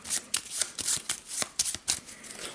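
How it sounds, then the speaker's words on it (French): A deck of 11 game cards for the board game Mesozooic being shuffled by hand, a quick series of crisp riffling flicks close up, alone with no talk. "Chacun des joueurs va mélanger les 11 cartes qui ont été cherchées."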